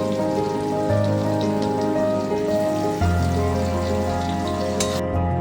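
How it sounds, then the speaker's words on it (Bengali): Chopped garlic fries in a generous amount of oil in a wok, a dense, continuous sizzle that stays loud and even throughout. "এবার কড়াইয়ের তেলে বেশ কিছুটা পরিমাণ রসুন কুচি দেব"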